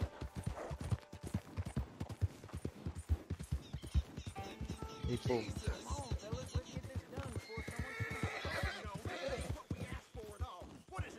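A horse in Red Dead Redemption 2 rears with heavy hoof clops and shrill whinnies amid game effects, while someone briefly talks over it.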